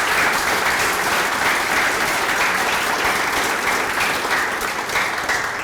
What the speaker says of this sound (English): I want to give Mike Peyote and all the committee a big round of applause